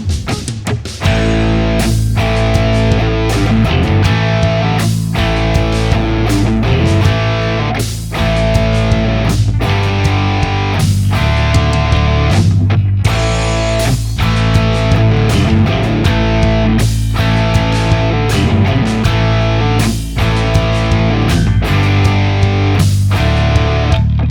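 A loud distorted electric guitar rock riff repeating with heavy chugging low notes and choppy rhythmic stops, no voices.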